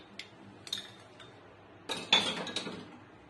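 A spoon clinks and scrapes against a bowl while Gujarati cutlet mixture with salt, lemon juice, sugar, green chilli paste and coriander is stirred: sparse light taps, then a cluster of sharper metallic clinks, close and fairly quiet, with no talking.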